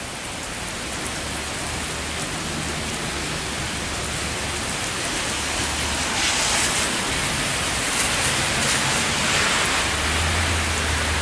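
Steady, dense rainfall pours down without a break, a loud continuous hiss with no voices or other sounds standing out.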